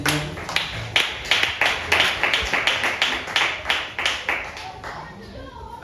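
A church congregation claps in unison, a loud, rhythmic series of about fifteen sharp claps at a steady beat, then fading out.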